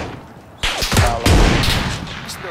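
Loud, close gunfire in PlayerUnknown's Battlegrounds during a duo match, a sudden sharp burst followed by several more shots in quick succession, sounding alone without talk.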